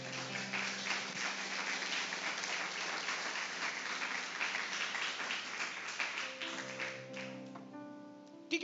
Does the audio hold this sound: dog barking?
no